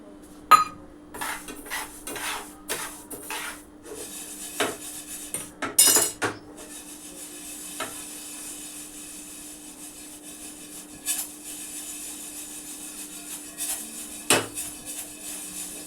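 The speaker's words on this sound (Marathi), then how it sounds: "ही मुगडाळ आपण इथं लालसर होईपर्यंत अशी भाजून घ्यायची आहे" Moong dal roasting in a hot pan for halwa, a spoon scraping and clattering against the metal in irregular bursts, close and fairly loud, with quieter stretches of steady stirring between.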